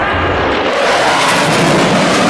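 A loud, sustained roar of an aerobatic plane passing at full speed at an air show, broadband and growing in intensity, with no voices.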